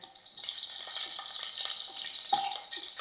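Green chillies fry in ghee and oil for a chicken yakhni pulao, giving a steady, close hiss of sizzling with faint crackles and a single sharp metallic clink near the end, and no talking.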